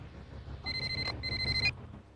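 An indoor telephone bell rings in one short, moderately quiet burst of about a second, over a low room hum.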